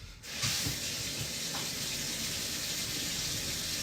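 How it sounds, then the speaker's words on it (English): Water gushing from a kitchen tap during handwashing, a steady loud hissing stream that starts abruptly and runs on unbroken, with no talk. "let's wash our damn hands"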